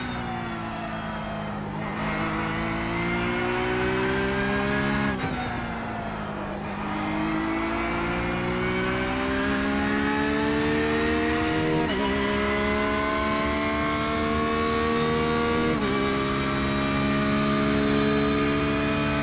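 A McLaren race car engine screams at high revs, loud and sustained, climbing steadily in pitch with several abrupt drops as it shifts up through the gears. It runs alone throughout, with no talk.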